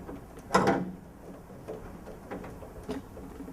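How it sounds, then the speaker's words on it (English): A panel unhooks from a voting machine: one sharp clack of plastic and metal, followed by a few faint clicks and rattles. "Now I'm going to unhook the operator panel just to get it out of the way."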